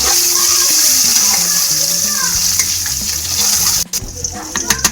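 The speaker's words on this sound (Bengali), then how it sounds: "এই ডিমগুলোকে ভেজে নেব" Eggs seasoned with salt and turmeric crackle and sizzle loudly in hot oil, a close, steady frying hiss that drops off sharply near the end, leaving scattered clinks and pops.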